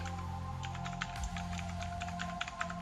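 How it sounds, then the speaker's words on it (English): A computer keyboard clicks in a quick, uneven run of keystrokes, close and fairly soft, over a faint steady hum, with no talk. "Now again type explorer.exe."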